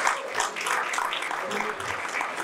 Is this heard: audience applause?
yes